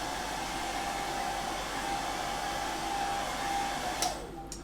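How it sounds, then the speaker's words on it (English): A hair dryer blows a steady, loud whooshing whine over a freshly painted miniature, droning evenly for several seconds before abruptly switching off near the end. "It's a quick hair dryer, so make sure everything's dry before I muck around with it"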